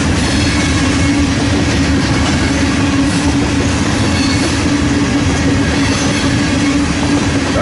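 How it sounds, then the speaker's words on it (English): A long westbound freight manifest train rolls past close by in Fremont, a loud, unbroken rumble of wheels and cars with a steady grinding roar throughout. "this is a mega manifest heading west here in Fremont"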